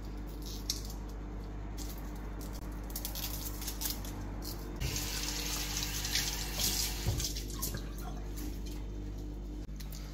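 Tap water runs steadily into a kitchen sink while fresh thyme and other herbs are rinsed for Jamaican oxtail cooking, a continuous close splashing hiss with brief squishy handling noises.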